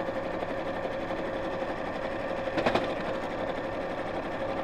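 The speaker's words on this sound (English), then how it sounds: "So literally just sewing all the way around the edge," A sewing machine stitches steadily all the way around the edge of a fabric project, a continuous close humming whir with a brief louder clatter partway through, with no talking.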